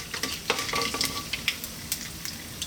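Whole green cardamom, dried chili, black mustard and cumin seeds sizzle in hot oil in a pan, a steady close frying hiss scattered with small pops and crackles.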